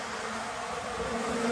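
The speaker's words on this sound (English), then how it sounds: "Most of the bees are still alive. They aren't happy. You can hear them roaring." Agitated bees buzz loudly and steadily up close, a dense, continuous roaring hum with no talk, filling the whole clip.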